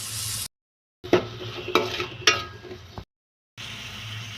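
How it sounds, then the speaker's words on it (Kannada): Onion and tomato fry in oil in a pan while being stirred, with a few sharp scraping strokes and a brief sizzle broken up by abrupt silent gaps. "ಈರುಳ್ಳಿ ಮತ್ತು ಟೊಮೆಟೊ ಹಾಕಿ ಫ್ರೈ ಮಾಡ್ಕೋಬೇಕು."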